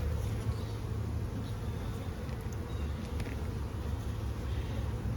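Honeybees on a hive frame give off a dense, steady, low buzz that goes on without a break, near and fairly quiet, with no voices.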